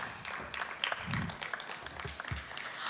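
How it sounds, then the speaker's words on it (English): Audience applause at a business expo: a short burst of scattered claps from a small crowd in a room, moderately loud and fading toward the end. "So I would like all of us to clap for ourselves."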